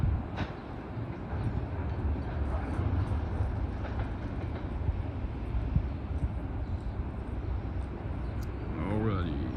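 A train rushes through a railroad crossing at speed, a sustained rumbling roar with rail clatter and a rising horn-like whine near the end, with people talking over it.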